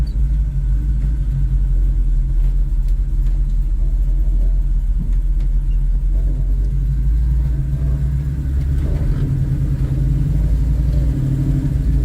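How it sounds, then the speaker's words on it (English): A 1968 Pontiac Firebird on a test drive gives a steady, loud low engine rumble and road noise inside the car, continuous throughout with slight swells in revs. "we're going to go on a quick test drive here"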